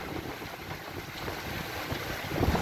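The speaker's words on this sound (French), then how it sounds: "Oh les rafales." Strong wind gusts roar during a violent supercell thunderstorm near Valence in the Drôme, a dense, steady rush of close microphone buffeting that grows louder toward the end.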